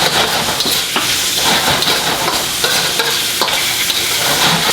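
Onions frying in a pan for fried rice, a loud continuous sizzle and hiss with occasional scraping stirs, close up and uninterrupted.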